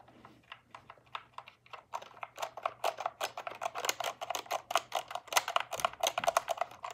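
Keys on an SK61 60 percent mechanical keyboard are typed in a fast, uneven run of close, crisp clacks that grows denser and louder toward the end, with no voice.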